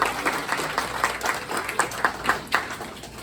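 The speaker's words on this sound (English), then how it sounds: "I need a round of applause" Scattered applause from a small crowd at a Lions Club fundraiser breakfast, several claps coming in loose bursts that rise and fall over about three seconds.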